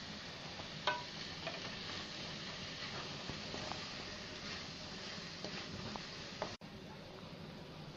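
Tomato pieces and salt are stirred into cabbage and moong dal curry frying in a pan, giving a soft steady sizzle with faint scraping stirs and one sharp knock near the end.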